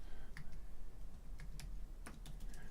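Computer keyboard typing on a desktop setup, sparse quiet keystrokes and clicks scattered irregularly over a low steady hum, no voices.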